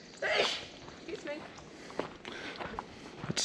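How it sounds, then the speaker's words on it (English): A single sharp sneeze bursts out near the start on a hiking trail, followed by outdoor ambience with a few soft crunching footsteps. "It's the sneeze trail."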